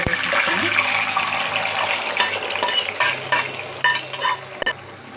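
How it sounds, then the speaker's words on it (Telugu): Boiled mutton tipped into hot oil for a Telugu-style mutton fry, giving a loud, steady frying sizzle with stirring scrapes throughout and a few sharper clatters near the end. "ఇప్పుడు మనం ఉడికించుకున్న ఈ మటన్ మొత్తం ఆయిల్లో వేసేస్తాము."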